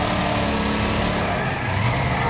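The Rocket car racing on The Oval Loop in Wreckfest, a dense, loud engine roar with road and crowd noise blended into a constant wall of sound throughout.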